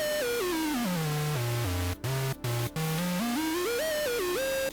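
Moog Mother-32 synthesizer driven by an EWI digital wind instrument, a single gliding monophonic tone sliding down in steps, briefly cutting out in short gaps, then sliding back up, sustained and loud with no talk.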